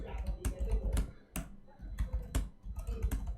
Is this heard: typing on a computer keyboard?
yes